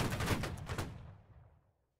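A line regiment fires a musket volley in the video game Holdfast: Nations At War, a ragged burst of several near-simultaneous shots that cracks loudly and then rolls away into a fading echo.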